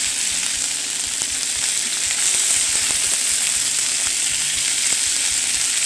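Chicken breast searing in a hot pan, a steady, bright sizzle and crackle of frying with occasional sharper pops, close and continuous without talk.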